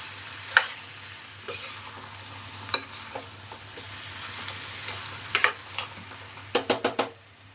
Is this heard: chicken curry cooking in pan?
yes